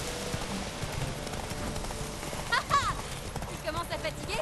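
Horse hooves clip-clopping at a run in The Witcher 3, a steady game-audio gait under ambient music and effects, with a brief louder burst midway.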